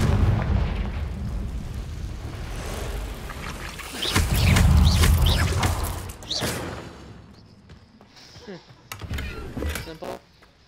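A Confringo blasting spell goes off in Hogwarts Legacy, a loud booming burst of fiery explosion amid game noise, with a player talking over it before and after.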